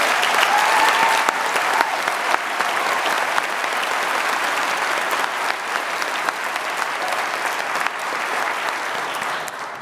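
Steady, continuous applause from a large audience at a high school graduation ceremony, dense clapping that holds evenly for the whole stretch and eases slightly toward the end, with no talking over it.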